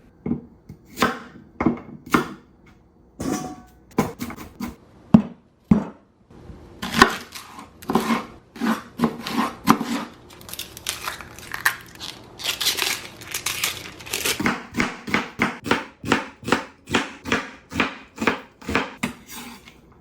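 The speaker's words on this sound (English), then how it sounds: "Cut the carrots in half as well." A kitchen knife halves carrots on a cutting board, with a long run of sharp, close chopping knocks, sparse at first and then falling into a brisk, steady rhythm.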